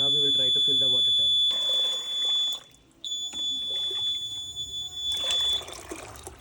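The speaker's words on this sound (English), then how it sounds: "it will give you an alarm because the water tank is empty" An IoT smart irrigation system's buzzer alarm sounds for an empty water tank: a steady high-pitched electronic tone that drops out briefly near the middle and then resumes, sounding alongside talk and some running water.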